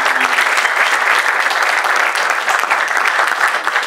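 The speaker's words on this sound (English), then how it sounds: "So give yourselves a round of applause for being part of the community." Sustained applause from a community meetup audience at a Miami startup event, a loud, dense wash of many hands clapping steadily for several seconds.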